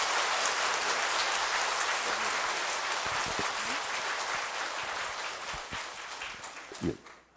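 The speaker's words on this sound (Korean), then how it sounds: "큰 박수로 맞이해 주시면 좋겠습니다." A congregation in a Catholic church hall applauds warmly to welcome the visiting priest Ivo Pavić before his lecture. The clapping is a dense, rain-like wash that holds steady and then thins out and fades near the end.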